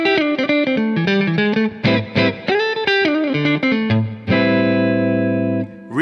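Fender Jazzmaster electric guitar played through the neck pickup on its rhythm circuit, a run of warm, rounded single notes and short phrases ending on a held, sustained chord, loud and clear with no voice.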